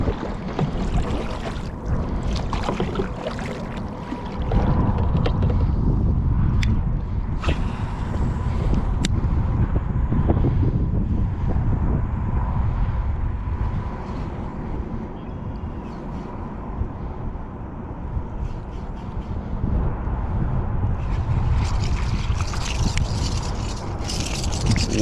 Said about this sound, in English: It's just really hard to come out here at this wind and fish